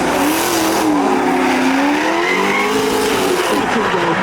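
A Corvette race car at a racing competition, its engine droning loud and continuous with a rising and falling tone, the tires hissing in a broad roar as they spin, close by and without talk.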